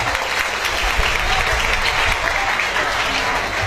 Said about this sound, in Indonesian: Tepuk tangan untuk mereka semuanya